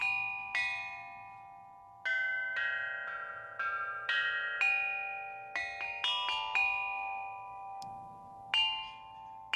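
Large ceremonial bronze bells of an ancient Chinese carillon chime one after another in a slow, irregular melody, each strike ringing out and fading with a long, bright decay.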